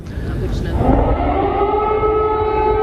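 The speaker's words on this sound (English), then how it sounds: "the capital woke this morning to the sound of sirens" Air raid sirens wail across Kyiv, a loud, sustained rising and steady tone carrying over the city, with a voice talking over it in the first second.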